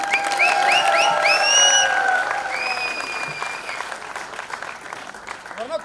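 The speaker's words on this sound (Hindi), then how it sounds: "कैलाश खेर से प्यार करता है वो जोरदार ताली बजाए।" A crowd applauds loudly for Kailash Kher at his golden jubilee stage event, with rising whistles and cheering calls over the clapping early on, then the applause thins gradually.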